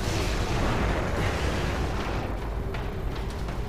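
A heavy, dense grenade blast in The Evil Within, a loud booming rumble that fills the whole moment and slowly decays, with no talk over it.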